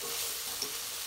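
Maggi vegetable noodles and vegetables are stirred together with masala in a pan. A soft, steady sizzling scrape runs continuously at low volume, with no talk.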